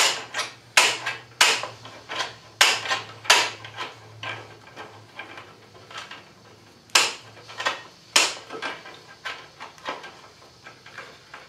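Snips cut through coated metal screen for a carp-bait boilie drying rack, giving a series of sharp, close clicks and snaps in uneven bursts with quieter pauses between them.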